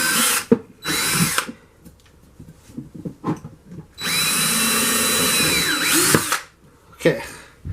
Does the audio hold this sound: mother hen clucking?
no